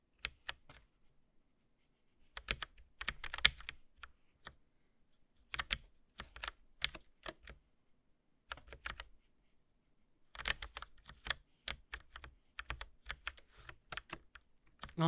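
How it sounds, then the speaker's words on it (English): Typing on a Logitech mechanical mini keyboard, with crisp clustered key clicks arriving in uneven bursts separated by short silences, close and distinct, no voices. "Sound on the keyboard."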